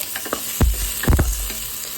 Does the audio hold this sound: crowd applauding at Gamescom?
no